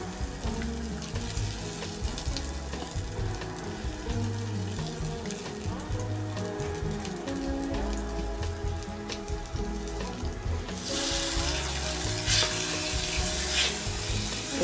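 Onions and tomatoes sizzle as they fry in a pan, a steady close crackle with stirring clatter, growing brighter and hissier toward the end as more moisture hits the hot oil.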